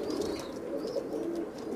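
Pigeons cooing softly and steadily at close range, low throaty calls layered over one another with occasional faint higher chirps, no voices.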